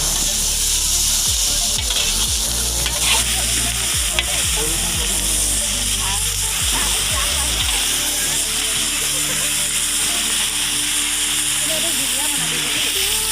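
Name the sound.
chicken curry masala sizzling and stirred in oil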